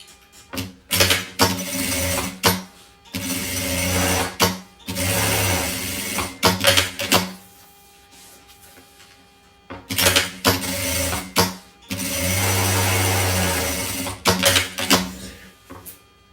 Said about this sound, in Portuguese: vou passar uma costura bem aqui, ó, juntando o principal e o forro numa única costura